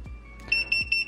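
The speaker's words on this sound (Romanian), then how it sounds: "Da, primim alarmă. Această alarmă o putem seta noi." An electronic speed alarm from a car HUD navigation unit beeps in short, repeated high tones at a quick steady rhythm, close and clear.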